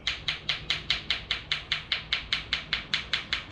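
A steady, rapid series of sharp knocks, about four or five per second, close and fairly loud, mimicking an engine rod knock with no talking.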